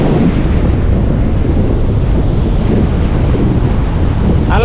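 Ocean surf breaking on a sandy beach at Bucana, a loud, continuous roar of waves mixed with heavy wind buffeting the microphone throughout.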